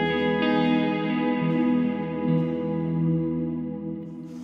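Electric guitar chords ring out through a lush, darker plate reverb with modulation, sustaining and shimmering as a continuous wash with no talking.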